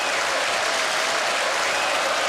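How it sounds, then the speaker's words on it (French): Warm studio audience applause on a radio-style broadcast show, a dense, even burst of many hands clapping close-up with no voices over it. "Alors là, ça s'applaudit, franchement ça s'applaudit"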